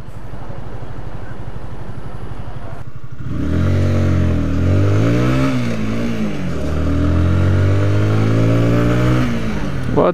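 A motorcycle engine revs loudly and close by on a Manila street, rising and falling in pitch over several seconds after a rough idle, with traffic noise around it.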